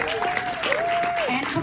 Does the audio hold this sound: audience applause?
yes